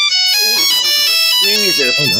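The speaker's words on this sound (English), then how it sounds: "I haven't heard that ringtone since the last time I watched Jurassic Park 3." A melodic phone ringtone, the same tune as the ringing phone in Jurassic Park 3, plays loud and close as a run of bright stepping tones, with voices talking over part of it.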